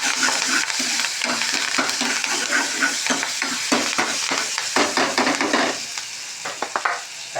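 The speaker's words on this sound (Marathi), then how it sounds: "आता तेल घातले कढईमध्ये, थोडं टमॅटो घातले, जिरी मोहरी घातले" Tomato, cumin and mustard seeds fry in oil in a wok, loud steady sizzling broken by repeated rhythmic scraping strokes of stirring, easing off toward the end.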